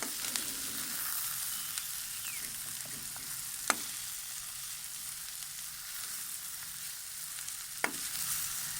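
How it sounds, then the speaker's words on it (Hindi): A ginger garlic gravy with salt and turmeric fries steadily in a pan, a continuous soft sizzle with a couple of sharp utensil clicks against the pan, heard alone without talk. "अब हम इसको अच्छे से भून लेंगे।"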